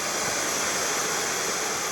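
Boiling water pours steadily from a hot-handled pot at a campsite during a motorcycle camping trip, a continuous splashing rush lasting about two seconds, close and alone with no talking.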